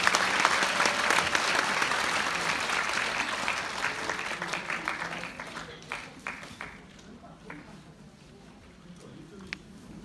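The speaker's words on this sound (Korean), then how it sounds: "바쁘신 중에도 행사에 참석하여 방문해주신 한가위께 큰 박수 부탁드립니다" An audience at a district talk-concert event bursts into loud applause that gradually thins into scattered claps and fades out, with some faint voices underneath.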